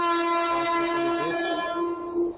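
A Mumbai local train at Mumbra station sounds a long, loud, steady horn that holds and then fades, with rail rumble underneath.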